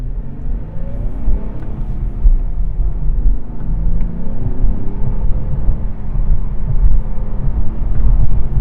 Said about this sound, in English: the sound of the V6 just doesn't get old